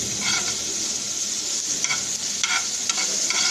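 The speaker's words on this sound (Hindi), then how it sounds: "इस तरह से प्याज को फ्राई करना है" Chopped onions sizzle steadily in a hot pan for a dal, with a few scraping strokes of a spoon stirring them through the close, continuous frying hiss.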